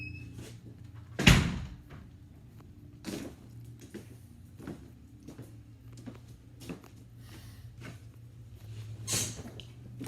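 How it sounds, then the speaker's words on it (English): A door closes in a quiet room where treadmill motors are kept, a sharp thump followed by a few softer knocks and faint rattles over a low steady hum. "Close the door."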